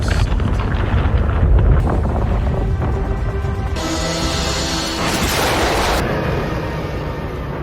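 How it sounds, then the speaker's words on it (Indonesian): A volcanic eruption in a disaster film, heavy rumbling blasts and crashing debris with roaring hiss, loud and dense throughout. "Ia melihat letusan gunung yang mengakibatkan satu pesawat jatuh akibat terkena"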